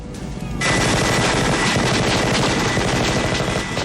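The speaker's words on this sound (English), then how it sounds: "had that huge Gatling gun" A handheld Gatling gun in the 1987 film Predator roars in one continuous, loud, rapid-fire burst that starts abruptly after a short lead-in and holds steady to the end.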